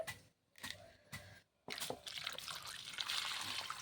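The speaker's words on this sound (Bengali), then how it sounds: "জল দিয়ে একটু ধুয়ে নেব কচুগুলো" Running water rinsing salted taro pieces in a kitchen, with splashing and trickling that starts after brief pauses and then continues steadily and fairly loud to the end.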